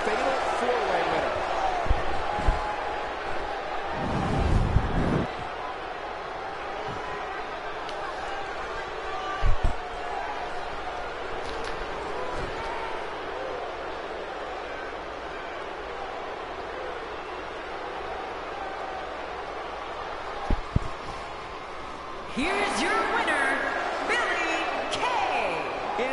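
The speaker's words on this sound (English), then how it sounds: "it sounds like the crowd is still digesting what they just saw" A large arena crowd in the WWE 2K17 wrestling game murmurs and roars after a fatal four-way match, a broad steady wash of noise with occasional thuds and a swell of cheering near the end, under a commentator's voice.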